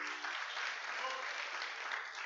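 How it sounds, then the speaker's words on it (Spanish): A congregation applauds during a Spanish-language church service, giving a steady, dense clatter of clapping that holds at an even level throughout, with a brief voice at the start. "Dele un aplauso al Rey."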